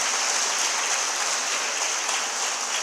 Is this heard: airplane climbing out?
no